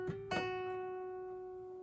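Fingerstyle guitar plucked softly up close, a couple of quick attacks followed by a sustained ringing note with a faint slide, decaying gently in a quiet room without speech.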